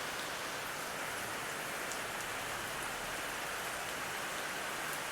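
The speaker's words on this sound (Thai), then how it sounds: "ทายเห็นเบิ้งว่าฝนตกจ้า" Rain pours in a continuous, uniform wash of patter, unchanging throughout, with nothing else audible over it.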